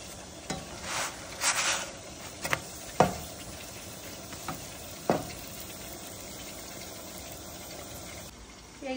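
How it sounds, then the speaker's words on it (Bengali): Rice flour roti fries in a pan with a low, continuous sizzle, broken by scattered clicks and scrapes of handling, close and fairly quiet. "এই যে রুটি ভাজা প্রায় শেষের দিকে"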